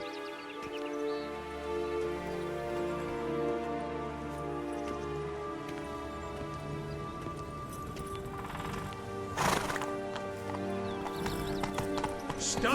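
Roach the horse in The Witcher 3: Blood and Wine, hooves clip-clopping in a steady galloping rhythm close by, with a neigh and rain-like patter, and a voice speaking over it.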